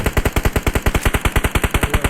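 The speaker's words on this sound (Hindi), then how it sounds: "बढ़िया कवर दे रहा, बढ़िया गोली चलाते रहो।" Rapid automatic gunfire from an AKM and UZI in PUBG Mobile, a loud, evenly spaced burst of about twenty shots fired in quick rhythm, heard alone.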